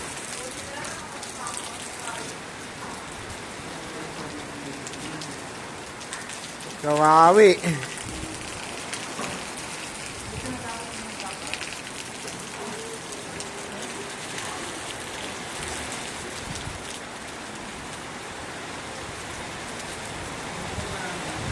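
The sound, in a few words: heavy rain falling while camping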